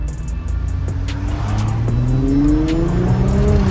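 Lamborghini or Nissan GTR sports car accelerating hard up through the gears, a loud close engine note climbing in pitch with brief shift breaks and some tire noise, no talking.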